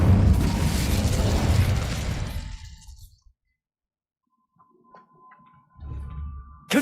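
An Incendio fire spell in Hogwarts Legacy bursts out as a loud roaring whoosh of flame that fades over about three seconds into near silence, followed by faint magical chimes and a low rumble.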